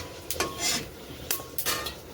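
Onions and dried chillies in oil being stirred in a wok: a few sharp scrapes and clinks of a utensil against the metal pan over a faint sizzle, close by, no talking.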